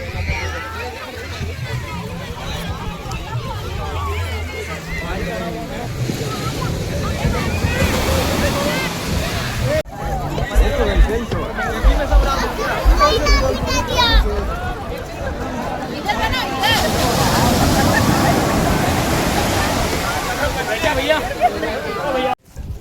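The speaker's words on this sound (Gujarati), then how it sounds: "અત્યારે મોજા આવે છે ને બહુ અવાજ કરે છે" Ocean waves wash in one after another on Somnath beach in Gujarat around dusk, a loud, steady roar with wind buffeting the microphone and a crowd murmuring in the background.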